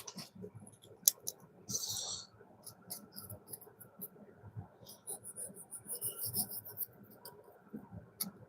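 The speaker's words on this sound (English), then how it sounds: "So all I do is just trace my pattern under the wood." Pencil scratching and rubbing along a thin piece of oak as a pattern is traced, soft close strokes in uneven bursts with faint ticks between.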